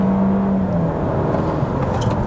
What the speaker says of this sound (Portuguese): Estolando o carro e saindo.